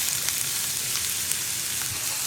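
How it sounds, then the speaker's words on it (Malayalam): Chopped onion and green chillies frying in coconut oil in a pan, giving a steady, soft sizzle with faint crackles throughout and no voices. "ഇതിലേക്ക് നമുക്ക് നമ്മൾ മുറിച്ച് വെച്ചിരിക്കുന്ന സവോളയും പച്ചമുളകും ചേർക്കാം."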